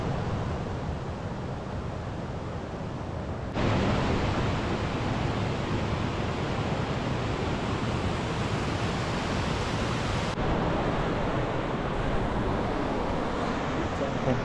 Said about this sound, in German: Da hinten war der andere Wasserfall.